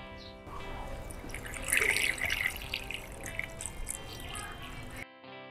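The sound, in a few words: pouring coolant into a car radiator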